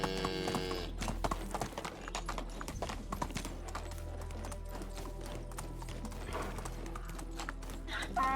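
Donkey hooves clip-clop steadily through the Medieval Dynasty video game, a continuous rhythmic patter of steps close by under background game music and ambience.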